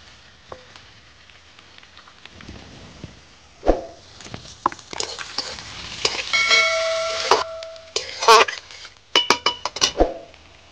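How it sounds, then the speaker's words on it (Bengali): Chopped onion dropped into hot mustard oil in a kadai, giving intermittent sizzling bursts and clinks of a metal utensil against the pan, close and moderately loud, with a voice talking at times. "তো তেলটা গরম হয়ে গেছে, আমি পেঁয়াজ কুচি দিয়ে দেবো।"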